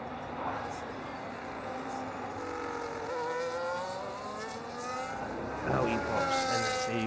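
Formula 1 car in the racing game F1 25 at Abu Dhabi, its engine note rising and falling down a long straight and into braking, heard under continuous commentary.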